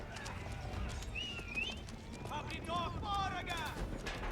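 Horse archers' hoofbeats in a strategy video game, a faint clip-clop patter under in-game chirps, whinnies and scattered clicks, steady throughout.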